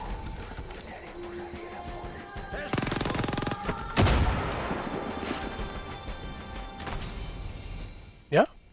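A grenade goes off in Far Cry 5 gameplay with a sharp crash and a rumbling blast amid scattered gunfire, followed by lingering debris noise and game ambience, fairly loud and with no talk over it.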